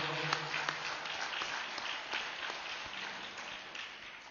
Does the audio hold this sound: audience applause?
yes